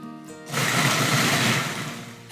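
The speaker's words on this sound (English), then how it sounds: "before I add the onion, I am going to grind up this horseradish" An electric grinder whirs loudly as it grinds horseradish, a steady buzzing motor roar that starts abruptly after a short quieter lead-in and runs for about two seconds, close to the microphone.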